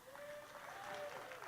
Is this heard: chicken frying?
no